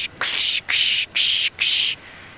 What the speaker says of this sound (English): The rattling cisticolas often make that